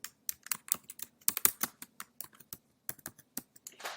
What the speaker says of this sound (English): And I'm going to type in Easter Bunny.